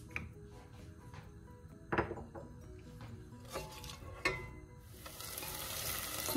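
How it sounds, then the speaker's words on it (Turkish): Chopped pepper and onion sizzle steadily in olive oil in a pan, with a few clanks of a utensil against the pan; the frying hiss swells louder toward the end. "İçerisine biber ve soğan karışımını koyuyorum. Biraz kavrulacak."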